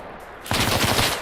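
Rapid automatic gunfire bursts in suddenly after a short quiet, a loud sustained rattle of probing fire from the northeast in a tactical ambush exercise.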